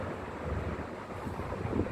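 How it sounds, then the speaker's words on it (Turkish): Wind gusts steadily outdoors on a residential street, a low continuous rumble buffeting the microphone with no voices heard. "Rüzgar var ama rahatsız eden bir rüzgar yok."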